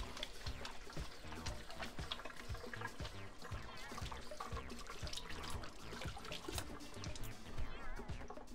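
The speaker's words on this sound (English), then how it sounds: "I'll go wash my hands." A tap runs steadily while hands are washed under it in a kitchen during Pico de Gallo preparation, giving a faint, continuous splashing trickle with small irregular bursts and no talking.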